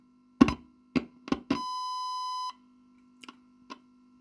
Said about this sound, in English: So this is just going to be a distorted sine wave.